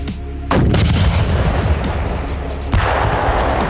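An RPG grenade launcher blast booms close by, followed by a rumbling roar and a second loud impact a couple of seconds later.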